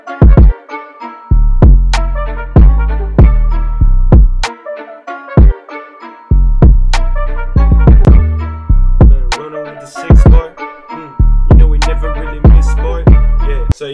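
A hip-hop beat made in FL Studio plays loud and alone, with a punchy booming kick hitting in a bouncy, syncopated pattern under plucky melodic notes.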